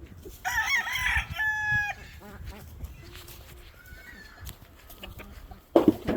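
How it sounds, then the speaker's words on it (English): A Rhode Island Red rooster crows loudly and close in a backyard, followed by a shorter call, while other fowl cluck and squawk in the background. "Rhode Island Red rooster"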